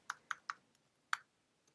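A password is typed on a computer keyboard as a few sharp, distinct key taps in quick succession, then a short pause and one more tap, close and otherwise quiet.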